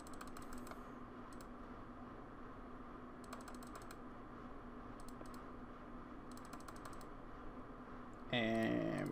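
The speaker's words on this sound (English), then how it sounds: "But for now, let's just keep spam clicking." A computer mouse is clicked in rapid bursts that come at regular intervals over a low, steady hum. Near the end, a brighter game chime joins in.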